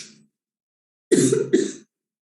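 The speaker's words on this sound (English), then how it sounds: "that cough was not the part of Kapalbhati" A single person coughs during a Kapalbhati breathing exercise: a faint exhale, a pause, then two quick close coughs in succession.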